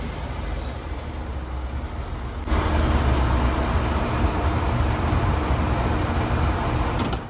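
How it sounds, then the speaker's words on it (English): Worn front wheel bearing on a 2WD Ford F150 with 132,000 miles, a steady low droning rumble while driving that grows louder partway through and holds, with road and cabin noise around it. "So when I heard that, I automatically knew it was the wheel bearings."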